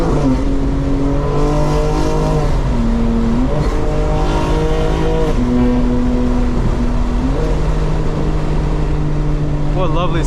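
A 2025 BMW M4 Competition engine revs and accelerates through repeated gear changes at night, its loud, rising harmonic drone sustained and close throughout, with a brief voice near the end.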